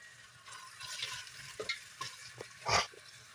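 Onions fry in a pan with a steady low sizzle, joined by a few soft stirring knocks and a brief louder hiss as sunflower oil is poured in, close and without voices.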